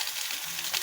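Vegetable sauce with curry and spices stirred in a frying pot, a brief, steady close sizzle with soft stirring texture throughout.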